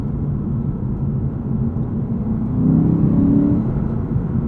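A 2021 Lexus RC F's 5-liter V8 drones steadily from inside the cabin on track, the engine note swelling slightly as it pulls harder toward the end.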